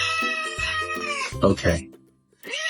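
A sweet pet cat meows and caterwauls in long, drawn-out, tonal cries, close and fairly loud, with a short pause before one more meow rises again; a person briefly speaks.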